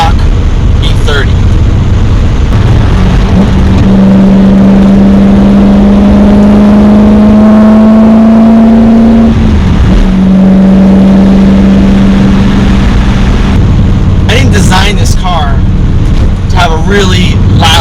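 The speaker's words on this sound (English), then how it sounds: "Really loud exhaust" A BMW E30 fitted with an S62 engine and a very loud exhaust drones steadily from inside the car on a test drive, with the engine note rising and holding and brief pauses between pulls.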